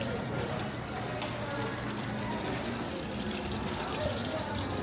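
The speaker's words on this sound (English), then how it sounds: "the water pouring out of this downspout here that's pouring out onto the concrete" Water from a downspout splashes steadily onto concrete in a continuous, fairly close pour, with voices talking over it.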